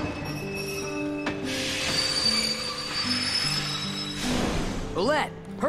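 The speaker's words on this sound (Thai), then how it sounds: "รถไฟถึงแล้วครับผม" A train pulls into the station in Kingdom Hearts 2, its wheels squealing in high whining tones over a steady rolling rumble, with a louder screech near the end and a voice talking over it.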